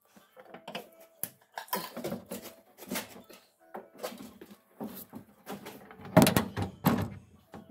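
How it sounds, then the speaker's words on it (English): A 1967 Chevy G10 van door with a new hinge pin is pushed and worked with a series of knocks and rattles, then shut with a loud, heavy thud near the end. "try and close the door"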